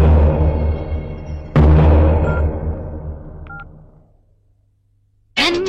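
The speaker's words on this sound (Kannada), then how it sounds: "ಬೇಕಾದ್ರೆ ನೀವೇ ಅವಳಿಗೊಂದು ಫೋನ್ ಮಾಡಿ" A few short telephone keypad tones sound as a number is dialed in a Kannada film scene, brief and faint after louder background sound fades, followed by a sudden loud burst.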